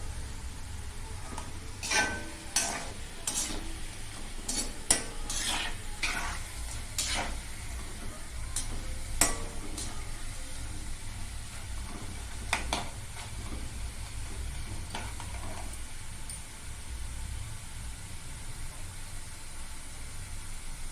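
Breadfruit chips frying in hot oil give a steady close sizzle with scattered crackles and spoon scrapes over a low background hum.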